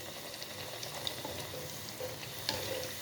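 Poori puffing up as it deep-fries in hot oil in a kadai, giving a steady low sizzle with a few soft pops and bubbling bursts, close and unaccompanied by any voice.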